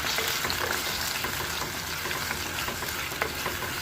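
Chopped tomatoes sizzle and fry in a pan while being stirred for a fish curry. The crackle is steady and close, with soft scraping stirs and no talking.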